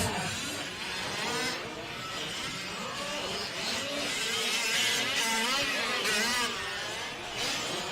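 Several 1/5 scale race car engines whine and rev hard on a racetrack during a West Coast Nationals main event, a continuous buzzing roar with rising and falling pitch sweeps as the cars accelerate, loud and sustained throughout.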